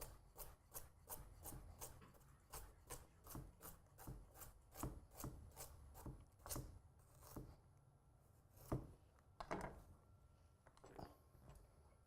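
A knife chops carrots on a wooden cutting board in a home kitchen, a quick run of evenly spaced close taps that slows into sparser, irregular cuts toward the end, quiet with no voices.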